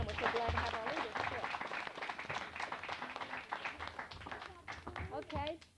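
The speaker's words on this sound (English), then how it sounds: "So let's clap for them." An audience at a Cub Scout pack meeting claps for the scouts, a patter of applause running beneath voices talking close by.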